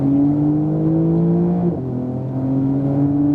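A 2018 Porsche 911 Turbo S accelerates on a race track with a corkscrew turn. Its engine drones loud and close with a rising tone that dips briefly at a gear change midway, then climbs again.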